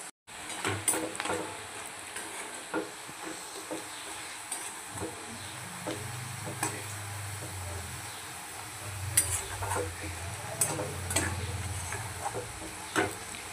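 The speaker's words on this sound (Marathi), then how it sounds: "गोल्डन कलरचा आपल्याला छान असा पिवळसर कांदा आपल्याला यामध्ये फ्राय करून घ्यायचा आहे" Onions frying to golden in a pan for Bihari mutton curry, a steady soft sizzle with occasional stirring clicks and scrapes running throughout, fairly faint and with no talking.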